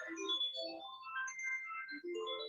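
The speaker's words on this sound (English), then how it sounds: "Please stop the phone." A phone ringtone plays a bright stepped electronic melody during a judicial conduct commission hearing, ringing steadily and clearly for a few seconds with no talk over it.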